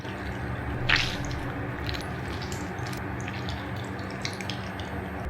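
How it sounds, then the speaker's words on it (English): Raw egg is worked into hair by hand, giving soft, quiet wet squelches and slippery squishing close by, with one sharper splat early on and faint sticky rustling after. "I'm trying to get this saturated into my actual hair by squishing it in"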